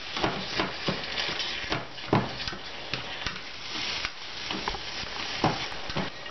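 A vegetable and tofu stir-fry with chopped garlic sizzles steadily in a pan while a utensil stirs and scrapes it, giving repeated soft clacks over a continuous close frying hiss, with no talking.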